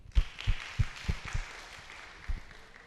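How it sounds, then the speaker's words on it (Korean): An audience claps for a few seconds during a Korean church talk, a short burst of separate handclaps at an uneven pace that fades away toward the end, with no talk over it. "박수 한번 하겠습니다."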